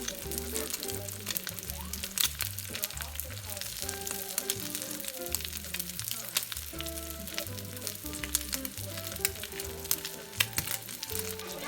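Chicken tortitas fry in a pan with a steady crackling sizzle, while pan contact and handling noises add rhythmic low thumps throughout the clip.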